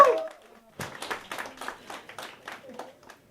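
Scattered applause from a small audience at a store launch event, with clapping bursts repeating over a few seconds and voices mixed in beneath.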